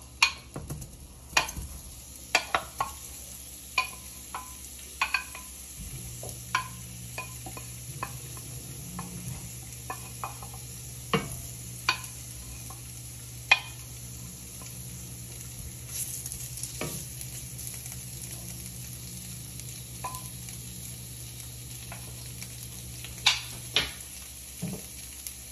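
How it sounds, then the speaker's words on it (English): Tofu pieces sizzle and fry in a hot pan for a stir-fry, a steady close crackling hiss with scattered sharp pops and occasional utensil ticks, no voices. "I'm gonna throw in a test piece and see if it sizzles."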